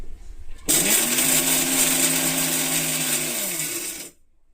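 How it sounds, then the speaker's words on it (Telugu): A mixer grinder whirs loudly for about three and a half seconds, starting abruptly and cutting off sharply, coarsely grinding peanuts with a rattling, gritty edge. "దీన్ని ఇలా మిక్సీ పెట్టేసుకొని"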